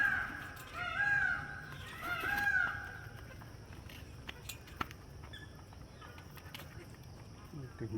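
Birds at a safari park call out in a few harmonic, clucking squawks near the start, then fade into quieter background noise with scattered faint chirps.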